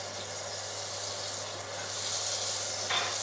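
A soft, steady sizzle and hiss of a knob of butter melting in a saucepan for blanquette de veau, quiet and continuous for a few seconds with no voices.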